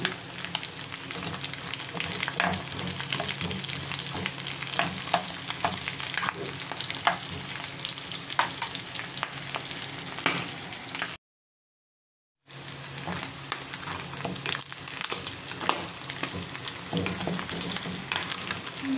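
Chopped onion sizzles in a hot pan for pata humba, a dense, constant frying crackle with stirring that continues with only a brief break partway through.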